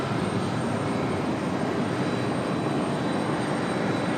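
American Airlines jet taking off from Raleigh-Durham International on the runway 23 departure toward Miami, a steady, loud broadband engine roar held for the whole stretch with no voices.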